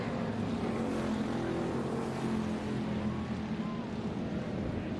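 Hobby-class race cars in a feature main event at Summit roar together around a dirt track, a steady loud drone of engines with a pack bunched close, and a faint announcer voice underneath.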